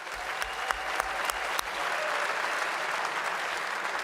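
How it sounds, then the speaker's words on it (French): A sustained round of applause from a crowd at a junior hockey draft event, many hands clapping steadily and fairly loudly with a few sharper individual claps standing out. "je pense que ça mérite toute une main d'applaudissements"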